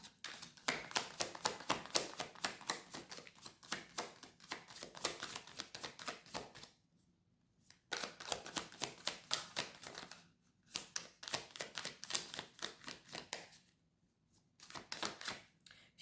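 Tarot cards being shuffled and drawn in a reading, a quick run of crisp riffling flicks that comes in bursts, with short quiet pauses between them and nobody talking.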